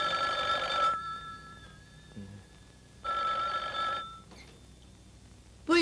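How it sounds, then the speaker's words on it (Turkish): A telephone bell rings in two long bursts separated by a pause in an old Turkish film scene, loud and close with no voices over it, and a third ring begins at the very end. "Telefona bakar mısın"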